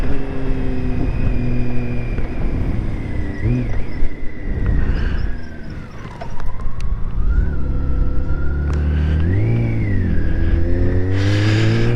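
A smooth six-cylinder BMW K1600 GT motorcycle engine revs and accelerates up a steep grade, pitch rising and falling through gear changes, loud and close with wind noise.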